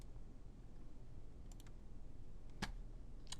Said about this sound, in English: Type a few words.